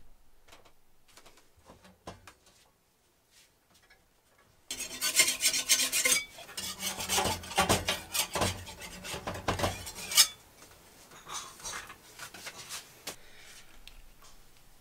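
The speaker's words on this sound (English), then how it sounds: "I'm just going to take a minute, scrape, clean off the flanges before I put in the new pump and gaskets." Metal flanges of a hot water heating circulator pump being scraped clean, a few faint scrapes followed by several seconds of loud, rapid rasping strokes up close, then quieter scratching.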